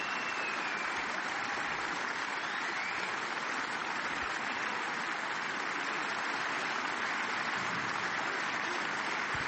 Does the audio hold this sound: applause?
yes